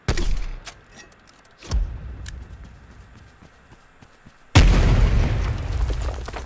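Spawn tube launched in Black Ops Cold War on the Satellite map: a sharp booming shot near the start, a second thump, then a loud heavy landing impact followed by sustained rumbling noise, with no talking.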